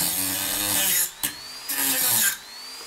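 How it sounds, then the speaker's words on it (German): An angle grinder cuts small parts for a gauge 0 model railway layout, whining loudly and close in two sustained bursts separated by a brief pause. "dann zücke ich die Flex"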